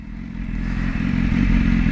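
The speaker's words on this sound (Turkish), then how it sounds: "Ne yapıyoruz? Motor atlıyoruz." A motorcycle starts off on a ride in Germany, its engine rumbling low and steady as it builds in loudness, with light clatter, close and without talk.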